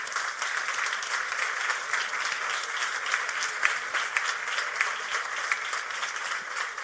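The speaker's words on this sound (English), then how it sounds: "Another applause." Applause from a conference audience at a strategic forum panel fills the room in a dense, steady wash of many hands clapping, moderately distant and lasting several seconds without voices over it.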